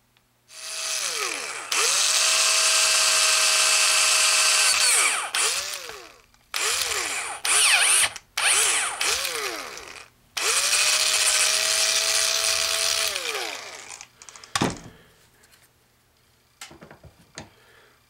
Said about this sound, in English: Go ahead and drill the other one out.